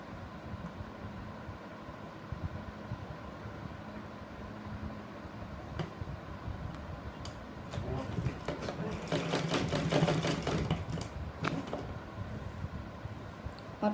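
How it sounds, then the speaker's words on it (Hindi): Sewing machine stitching a blouse, a low steady mechanical hum with a rapid rattling run that swells louder toward the end, under a woman's faint speech. "अब ये वाली सिलाई लगा दूँगी"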